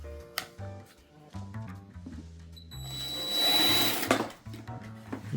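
A drill bores a 5/16-inch hole in a large 3-foot HD Christmas bulb, giving a short rising whine of about a second and a half amid quieter handling clatter.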